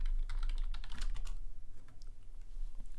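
Fingers type text on a computer keyboard in quick clustered keystrokes, busier at first and then thinning to scattered taps over a low background hum.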